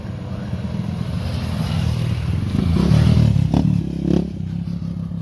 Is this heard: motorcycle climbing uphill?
yes